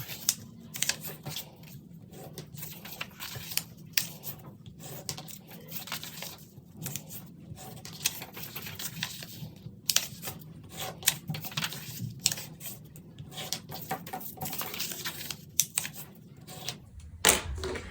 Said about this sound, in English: what I'm gonna start doing is folding all of these and cutting the windows